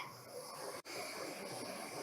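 Dhokla steams in a covered kadai over a high gas flame, a steady close hiss that continues with a brief dip, without speech.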